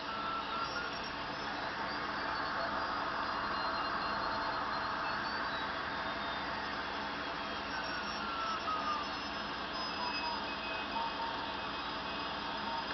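Steady hiss of radio static filling the clip, with faint thin Morse code tones wavering through it on a radio receiver with fine tuning, continuous and fairly quiet.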